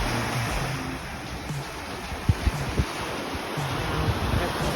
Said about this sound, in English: it's very, very choppy on this side, but the boats are going through